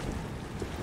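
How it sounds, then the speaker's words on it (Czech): A boat engine running in the video game Resident Evil 6, a steady broadband motor rumble with wind-like noise, constant and fairly loud throughout. "No tak já jsem nastartoval motor"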